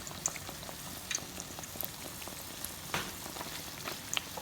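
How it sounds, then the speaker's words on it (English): Chiroti, layered puris, frying slowly in oil, a quiet steady bubbling sizzle with occasional soft pops and light clicks over several seconds. "you need these to cook up slowly, fry up slowly, so that you can they can become really nice and crispy"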